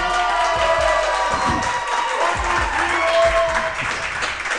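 A sold-out crowd at Chickasaw Bricktown Ballpark cheers and applauds for a high school football team, a loud, steady wash of clapping and shouting voices with rhythmic thumps underneath.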